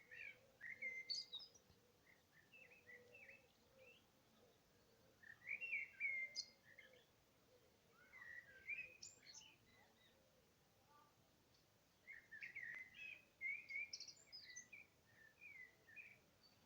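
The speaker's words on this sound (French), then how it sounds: "les oiseaux." Birds sing outdoors in faint, scattered chirps and short warbling phrases, coming in clusters with quiet gaps, set against a soft, low background hush.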